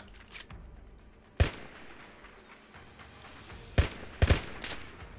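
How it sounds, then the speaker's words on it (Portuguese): Bursts of gunfire in the Minecraft Crafting Dead mod: one sharp shot, then a pair and a short cluster near the end, over a faint game background hiss, with no talking. "Tem gente me atirando, tem gente me atirando"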